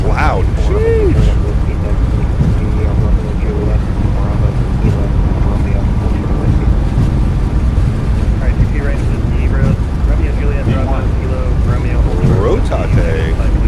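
Boeing 737 MAX 8 jet engines at takeoff power during a Newark departure in Microsoft Flight Simulator 2024, a loud, steady low roar filling the whole stretch with a person talking over it.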